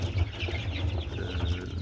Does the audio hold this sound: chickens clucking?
yes